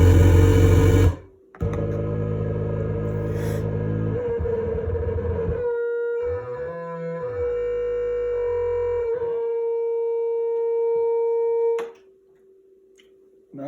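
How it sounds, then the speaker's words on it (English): Pulse wave synthesizer tone playing sustained buzzy notes that shift pitch in steps, loud and alone, with short gaps and a quiet tail at the end. "Now let's do the pulse wave here."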